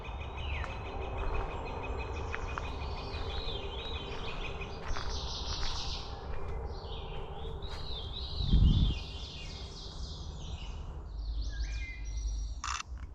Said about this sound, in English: And there's a northern water thrush here.